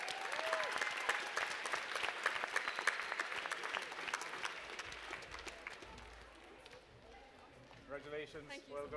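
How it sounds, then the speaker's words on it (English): Audience at a youth awards event applauds a band with brisk clapping that fades over several seconds, then a voice speaks as the claps die away. "Give them a round of applause."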